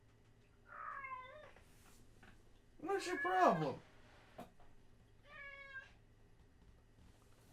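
A house cat meows loudly and repeatedly: a short call, then a long drawn-out wail, then another short meow, close to the microphone with a person speaking briefly.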